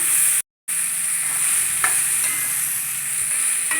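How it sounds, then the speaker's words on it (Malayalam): Chopped beans and carrots fry in oil for Kerala-style upma, giving a steady, close, loud sizzle with a brief dropout near the start. "ബീൻസ്, ക്യാരറ്റ് നന്നായി ഇളക്കി കൊടുക്കാം."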